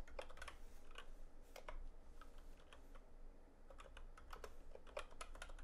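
Rapid, irregular clicks of fingers typing on a computer keyboard, quiet and close, with short bursts and brief pauses between keystrokes and no voices.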